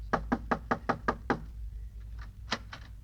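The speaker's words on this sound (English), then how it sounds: "knock on the door" Knocks on a wooden door as a radio-comedy sound effect: seven quick, evenly spaced raps, then a pause and a softer double knock, close and clear with no talking.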